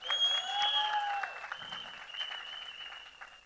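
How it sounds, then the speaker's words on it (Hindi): At a film trailer launch event, an audience claps for India. Moderate applause runs alongside sustained tonal music at the start and continues more sparsely afterwards. "तालियां बजाइए अपने भारत के लिए।"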